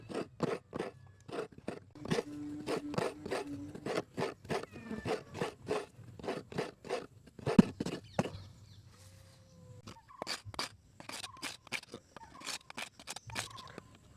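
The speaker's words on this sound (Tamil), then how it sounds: "இந்த சிரட்டை தேங்காய் திருவினோன்னா அந்த சிரட்டையை சீவுறேன்" A coconut shell is scraped with a blade in quick bursts of sharp, rasping strokes, fairly close and moderately quiet, with brief pauses between runs of rapid scraping.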